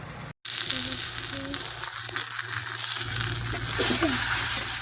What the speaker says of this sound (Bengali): ভালোভাবে কষাই করবো